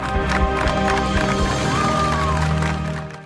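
Students applaud and cheer people who put out their cigarettes at an anti-smoking flower handout, a steady, dense wash of clapping and crowd noise running throughout with some tonal sound underneath.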